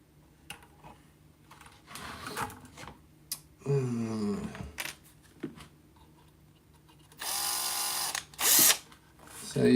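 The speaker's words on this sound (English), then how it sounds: "Let's see if a 2mm drill is going to be too big" A power drill with a 2mm bit running in short bursts of whirring that rise and fall in pitch, mixed with clicks and handling knocks of a workbench build, fairly close, alongside brief speech.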